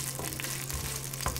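Onions sautéing with pork in a hot pan, a close, even crackling sizzle with a low hum underneath and a couple of sharp clicks from stirring, no talk.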